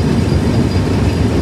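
The Rupsha Express intercity train runs slowly on the rails, a loud, continuous rumble of wheels and carriage heard from on board, with no voices.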